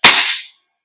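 A gas blowback airsoft pistol fires a single sharp crack that fades within half a second, close and loud, with no talking.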